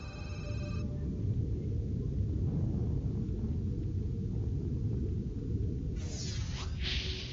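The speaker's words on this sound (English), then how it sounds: "This is the spectrogram and sound of an undersea earthquake." An undersea earthquake picked up by a hydrophone: a continuous heavy low rumble that holds steady throughout, with a brief hissing burst near the end.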